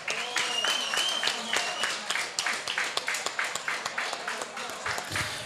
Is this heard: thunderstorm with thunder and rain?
no